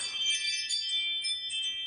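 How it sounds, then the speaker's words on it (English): A soft, high electronic doorbell chime rings out with a few overlapping tinkling notes, fairly quiet and sustained, with no voices. "that's my doorbell saying that I'm out here"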